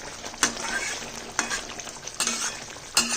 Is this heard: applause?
no